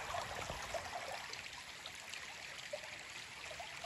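Creek water flows at the edge of a field in a faint, steady wash of hiss and light trickling, with no voices.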